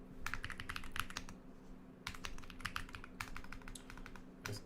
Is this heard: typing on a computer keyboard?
yes